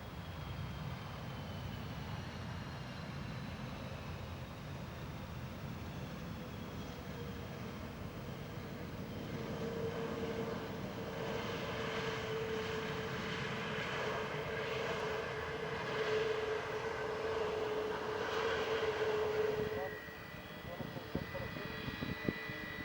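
Airbus A318-121 airliner taking off from runway 13 at Fortaleza airport, heard as a steady, fairly distant jet engine roar that swells and then fades, with radio chatter over it.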